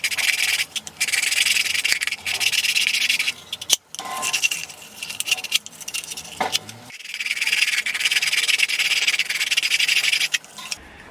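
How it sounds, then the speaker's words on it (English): Sandpaper rubbing back and forth over the cut edge of PVC plastic for a trash bag roll dispenser, a steady close scratchy abrasion in long strokes with a few short pauses and no talking. "we have to sandpaper the plastic, the cut, so it's soft and doesn't cut the plastic"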